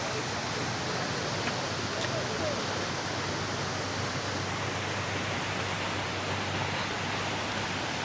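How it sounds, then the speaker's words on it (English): Constant, dense rushing water from a nearby waterfall in Oregon, steady and unbroken for the whole stretch. "you can feel the mist coming off the waterfall just a little bit."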